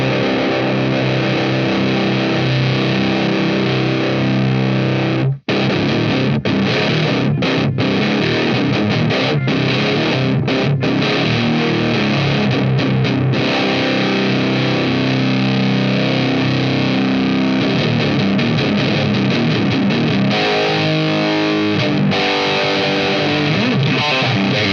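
Electric guitar played through a Twinote Boogie Distortion pedal at high gain, a loud, saturated, sustained crunch of chords and riffs with one brief dropout near the start, then note runs toward the end.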